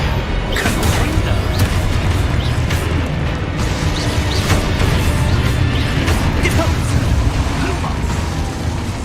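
The Confringo explosion spell in Hogwarts Legacy produces a continuous loud, booming roar of blasts and rumbling game effects, dense and unbroken for the whole stretch.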